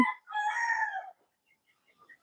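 A single rooster crow from native chickens in a farm house, a close, clear call lasting under a second, followed by a few faint chirps.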